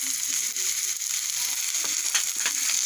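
Spice paste with chili and turmeric powder fries in a pan, a steady, fairly quiet sizzle with occasional scraping and clinking as it is stirred.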